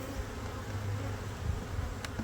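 Honey bees buzz close around an open hive near the entrance, a soft continuous droning hum with no talking.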